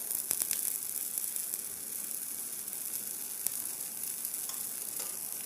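Adai, a lentil crepe, fries in generous oil on a pan, giving a constant soft sizzle with faint crackles and one brief sharp click, no voices.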